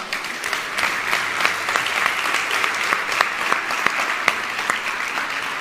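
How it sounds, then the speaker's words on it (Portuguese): Steady audience applause from a crowd at a motivational talk, moderately loud and continuous, with sharper individual claps standing out through the dense wash for the whole stretch. "Uma salva de palmas para quem está vivo, né?"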